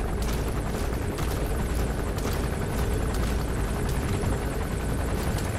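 In Metal Gear Solid 5, a helicopter's rotor beats steadily and loudly throughout, a constant whirring thump with no speech.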